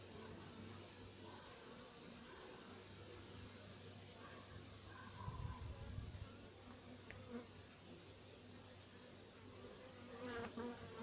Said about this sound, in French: Abeille qui s'énerve après le téléphone.